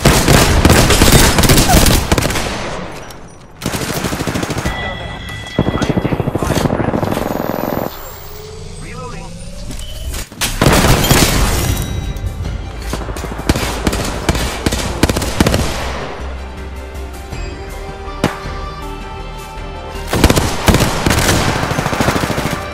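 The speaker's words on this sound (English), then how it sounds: "Grenade, watch out!" Apex Legends combat roars close and loud, with a grenade blast and rattling automatic gunfire in dense bursts, a brief lull, then more heavy firing, while a voice talks over parts of it.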